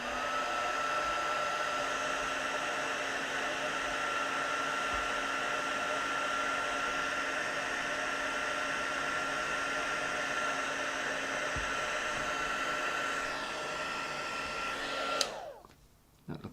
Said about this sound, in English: And I'm just gonna use the heat tool again.